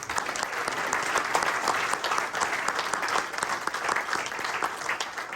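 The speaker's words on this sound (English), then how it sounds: "Huge round of applause for Coley." A corporate event audience applauds a former Manchester United player, with steady, moderately distant clapping filling the whole stretch without a break.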